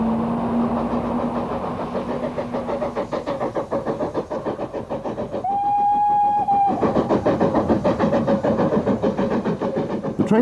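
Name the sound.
steam train with Terrier locomotive climbing Tenterden Bank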